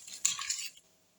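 Utensil scraping and clinking against a pot while stirring an orange marmalade mixture, a brief close burst of metallic rattling that fades out.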